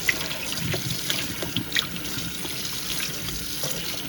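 Water runs from a tap into a sink in a steady gushing stream, with a few splashes and clinks along the way.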